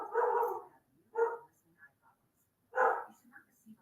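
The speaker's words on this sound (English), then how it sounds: "Sorry for my dog if you can hear my dog barking." A single dog barks in three separate loud bursts, the first longer and the others short, with quiet gaps between them and a few faint yips.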